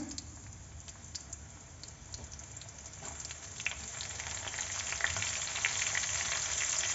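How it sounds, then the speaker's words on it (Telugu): Baby corn deep-frying in hot oil gives a close, continuous sizzle with crackling pops that grows slightly louder as more pieces go in. "వీటిని తీసుకొని వేడి వేడి నూనెలో వేసుకొని మనం డీప్ ఫ్రై చేసుకోవాలన్నమాట"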